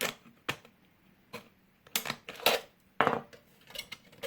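Scissors cut through a tin can as part of a popcorn-maker craft, giving sharp, irregular metallic snips and crunches separated by short pauses, close and fairly quiet.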